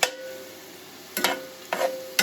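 Chicken cooking in a pan for butter chicken, a steady soft sizzle broken by three or four sharp clattering stirs or scrapes, close by, with no talking.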